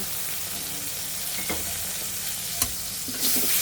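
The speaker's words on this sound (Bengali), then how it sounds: "আধা চা চামচ পরিমাণ তেল দিয়ে এখন পেঁয়াজ এবং কাঁচা লঙ্কা বাটা এভাবে দিয়ে দিব" Onion and green chili paste fry in a little oil for a prawn and spring onion dish, a low steady sizzle punctuated by a few sharp scrapes of a spatula and a louder hiss at the end.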